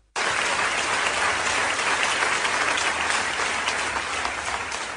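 An audience bursts into applause at a road safety event, sustained clapping that starts abruptly and holds steady for several seconds, fading slightly at the end.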